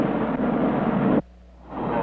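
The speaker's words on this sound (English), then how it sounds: "this is a French fire engine that floats on air." A French hovercraft fire engine's steady, loud roaring engine drone, broad and rushing, cuts out abruptly, leaves a brief hush, then swells back in.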